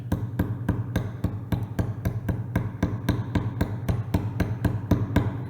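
A mallet taps a chisel into wood in a steady, even rhythm, about three light knocks per second, close and crisp against a quiet low hum.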